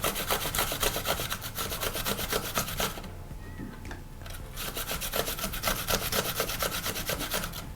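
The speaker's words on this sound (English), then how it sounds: "And grate our onion." An onion rubbed against a hand grater for baby food, giving a fast, steady rasping scrape in even strokes, loud and close, with one brief pause partway through.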